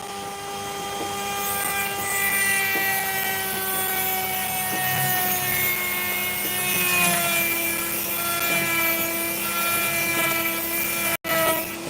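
A Dremel rotary tool grinds an opal stone with a high, steady whine and layered tones, slightly rough and wavering, loud and close throughout, broken by one sharp dropout near the end.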